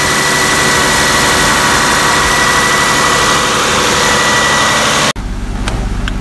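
A Toyota Camry engine idles steadily while warming up, loud and close with a constant low hum, then cuts abruptly to a quieter, lower rumble near the end.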